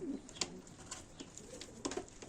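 Pigeons in an outdoor coop give soft, scattered coos and a few brief calls, fairly faint against a quiet background.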